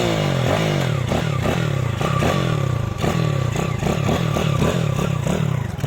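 Dirt bike fitted with a Mikuni VM24 carburettor and a 17-tooth sprocket, ridden in second gear, its loud close engine revving up and down in repeated pulls, with rattling clatter and no talking.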